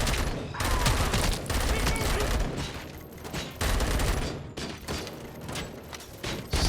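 Heavy gunfire in the Robocop Rogue City video game, sustained loud close bursts of shots with short pauses between volleys, a voice faintly talking underneath.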